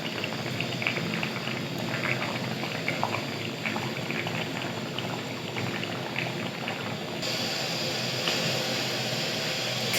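Fish pieces, first fried with salt and turmeric, simmer in a thin village-style broth of summer vegetables, giving a steady, close bubbling hiss that runs unbroken with no voices.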